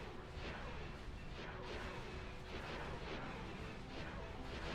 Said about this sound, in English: it's like it's our TIE Furies using their torpedoes